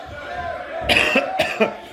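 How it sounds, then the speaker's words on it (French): A couple of sharp, close coughs in quick succession, following a moment of low voice and background murmur. "Je tousse."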